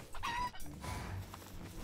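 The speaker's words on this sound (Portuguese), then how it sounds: "Tem outra galinha gritando." A screaming chicken in the video game Palworld, loud clucking squawks and a crow-like cry up close, a couple of bursts over a low game background with no talk.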